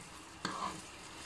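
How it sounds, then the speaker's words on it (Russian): Flour being stirred into chicken liver frying in a pan, giving one brief scrape-and-sizzle burst that stands out over faint background hiss. "Перемешиваем."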